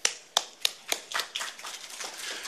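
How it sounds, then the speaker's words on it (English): Conference audience applauding a speaker: a few sharp, separate hand claps open it, then they quickly thicken into steady, moderately close group clapping that holds to the end. "Let's give a big applause to Nodary."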